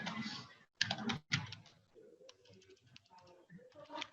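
Computer keyboard keys tapped while entering procurement data, a quiet, close burst of clustered clicks followed by lighter scattered keystrokes, with nobody talking.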